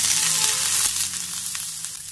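Curry leaves frying in hot oil with onion and ginger-garlic paste for a mushroom spring roll filling, a steady close sizzle and crackle throughout with a faint stir.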